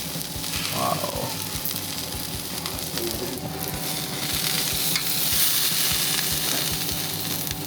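Pork sausages sizzle on an outdoor mountain grill in Brasov, Transylvania, a continuous close fatty sizzle with rapid crackling pops and low background rumble.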